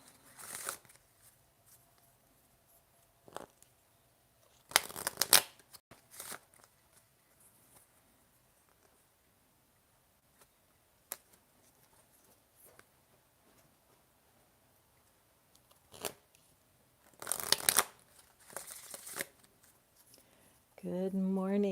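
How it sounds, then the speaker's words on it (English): A deck of tarot cards being shuffled in a quiet room, coming in a few separate brisk riffling bursts with long near-silent gaps between them, close and fairly soft. "Just shuffling the cards, waiting for people to tune in."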